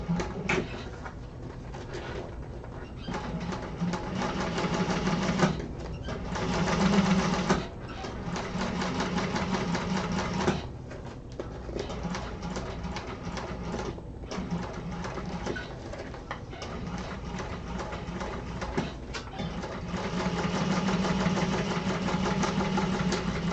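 A sewing machine hums steadily through a second row of stitching in a class setting, the motor running almost continuously at moderate volume with small dips and surges.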